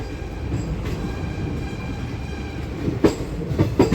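A passenger train on the Visakhapatnam to Gunupur run rolls into Vizianagaram station with a steady low rumble from inside the coach, then a few sharp clanks and wheel knocks near the end as it slows.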